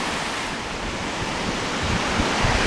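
Surf washing up on a Lake Michigan beach at Whitefish Dunes State Park near Sturgeon Bay, Wisconsin, on a late-November day: a steady, broad wash of water with wind noise on the microphone, swelling slightly toward the end, with no voices.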